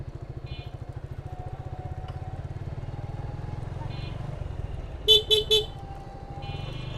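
Road traffic with auto rickshaws in Savar, Bangladesh: a close, throbbing engine hum runs throughout, and a quick burst of three loud horn honks cuts through near the end.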